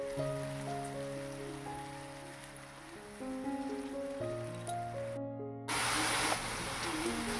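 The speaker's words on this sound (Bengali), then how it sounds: "আদা রসুনের কাঁচা গন্ধটা যতক্ষণ না যায় ততক্ষণ ভালোভাবে কষিয়ে নিতে হবে।" Ginger-garlic spice paste sizzles and fries in a pan for a Bengali doi katla fish curry, a soft, steady crackling hiss beneath background music, growing slightly louder near the end.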